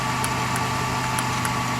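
A Mercedes SL600 engine runs steadily on a bench test rig while its throttles are exercised, giving a constant droning hum with a few faint high ticks over it.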